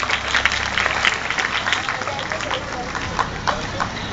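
Audience clapping at a school Teacher's Day event at an Urdu high school, a dense, continuous patter of hands filling the room at fairly loud level, with a few voices murmuring beneath.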